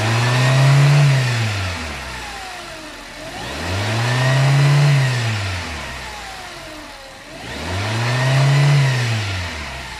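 A Hyundai Accent engine revs up and falls back three times in steady surges, each rise climbing in pitch and loudness before easing down, close and with no talk over it.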